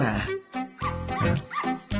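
A dog gives a quick series of close, loud yipping barks and whimpering cries in rapid bursts.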